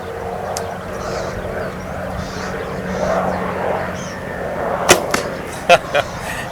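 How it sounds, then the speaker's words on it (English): A helicopter passing overhead gives a faint, steady low drone across an outdoor archery range, with a few sharp clicks and thuds near the end. "Helicopter's coming over to see what I'm up to."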